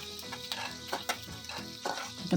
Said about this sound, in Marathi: हे वाटण आपण आता भाजून घेणार आहोत